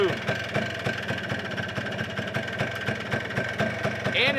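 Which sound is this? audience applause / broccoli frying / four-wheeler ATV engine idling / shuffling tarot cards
four-wheeler ATV engine idling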